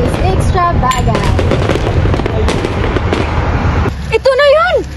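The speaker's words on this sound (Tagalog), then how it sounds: "Look how beautiful are the fireworks." Fireworks bursting at an extravagant celebration, a rapid series of sharp pops and crackles over a dense bed of noise, with people talking and a voice rising near the end.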